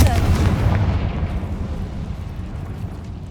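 A Confringo fire spell explodes in the Hogwarts Legacy video game, a loud deep blast at the start that rolls into a long rumbling decay and fades over a few seconds.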